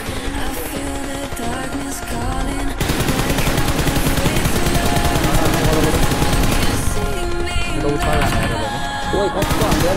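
Automatic gunfire from weapon sprays in a PUBG Mobile match: loud, dense, sustained bursts of rapid shots running almost continuously, with a brief shift in character partway through.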